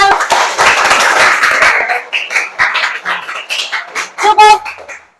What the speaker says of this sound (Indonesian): tolong tepuk tangannya untuk Amel